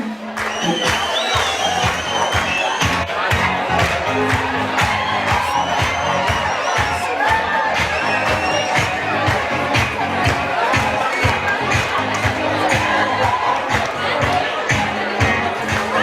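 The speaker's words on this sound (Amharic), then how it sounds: "ጭብጨባ እስኪ።" A crowd at a family celebration applauding and cheering in a hall, dense clapping and whoops under continuous chatter and shouts.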